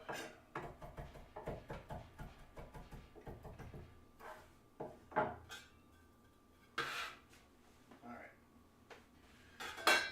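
Knife rocking through mushrooms on a cutting board, a quick run of crisp, close chopping taps that thins into scattered cuts and clatter of kitchen utensils, with occasional speech.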